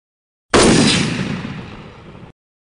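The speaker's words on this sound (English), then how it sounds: "where she is dispatched with a rifle." A single loud rifle shot fired at a wild hog sow at a trap enclosure at dusk, a sharp crack followed by a long rolling echo that fades over nearly two seconds.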